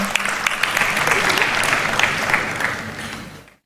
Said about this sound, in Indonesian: Tepuk tangan buat Kang Amih.